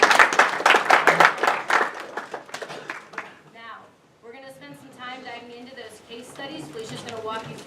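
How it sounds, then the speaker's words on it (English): Students clap for themselves in a classroom, a short burst of loud, close, rapid clapping that fades out after about three seconds, with talking continuing afterward. "let's give yourselves a round of applause"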